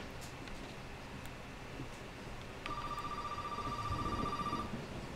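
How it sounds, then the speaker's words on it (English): A telephone rings in the horror video game Resident Evil 7 Biohazard: a steady electronic ring starts midway and sustains for about two seconds over a dark, noisy ambient background, moderately loud and alone. "I hear a phone ringing"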